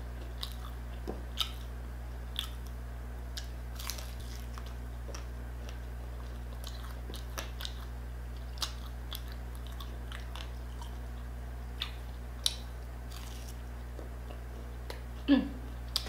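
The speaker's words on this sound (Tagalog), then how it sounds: "Kainin natin itong pork belly na malutong." Crispy pork belly being chewed close to the mic, scattered sharp crunches and bites over a quiet steady hum, with soft faint voices.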